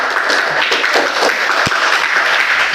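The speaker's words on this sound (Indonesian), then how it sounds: "Beri aplaus untuk kelompok." Classroom applause for a student group, a short burst of dense clapping from many hands, loud and close, lasting a few seconds.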